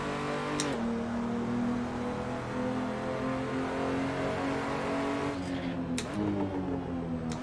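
A race car engine in the Assetto Corsa sim racing game drones and revs steadily, with short pitch drops and sharp exhaust crackles and pops on downshifts, continuous and close.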